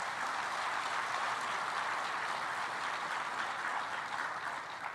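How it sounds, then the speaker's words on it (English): An audience applauds at the opening ceremony of the Commonwealth Business Forum in Kigali: steady, even clapping from a large crowd, heard faint and distant with no voices over it. "I think he really deserves that clap."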